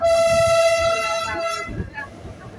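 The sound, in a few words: horn of a vintage train from Ambarawa Railway Museum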